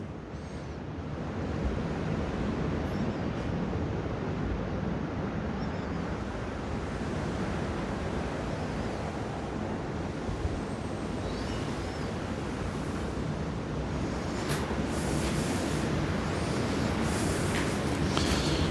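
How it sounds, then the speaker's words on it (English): Strong wind roars continuously, buffeting the microphone with a dense rumbling rush that barely lets up. "It's windy as well, it's really windy."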